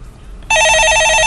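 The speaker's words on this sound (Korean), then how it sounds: "전화 받아보겠습니다." A telephone bell begins ringing abruptly partway through, a loud, steady electronic trill that continues to the end over faint low background hum.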